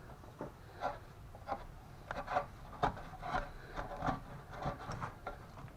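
A scraper rasps in short repeated strokes across the valve cover of a 2013–2017 Honda Accord 2.4, removing old gasket material; close, dry scratching in an uneven rhythm with no voices.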